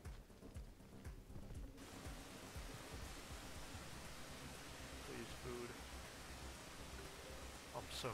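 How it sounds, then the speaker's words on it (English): Heavy rain in the video game Rain World rumbles as a steady, dense wash of noise that fills the whole stretch and never lets up, with a few faint voice-like sounds near the start. "that rumbling is both the rain and..."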